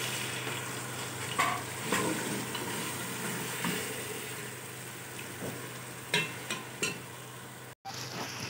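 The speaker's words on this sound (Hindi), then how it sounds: "ये अच्छी तरह से भून रहे हैं हमारे गोले बेले।" Steady sizzling of stuffed gram-flour rolls (gole bele) frying in spice paste in a pan, close and continuous, with occasional stirring scrapes and clinks over a low background hum.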